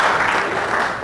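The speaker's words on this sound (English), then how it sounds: "My mom appreciates the applause" A brief burst of audience applause at a lecture on white privilege, a dense wash of clapping from a crowd that carries steadily through the clip with no talking.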